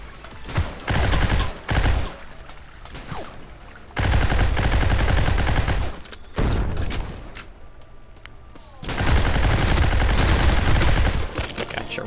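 Rapid bursts of automatic gunfire in the Gene Shift Auto video game, loud fusillades broken by short pauses, with a few single shots and mechanical clicks between the volleys.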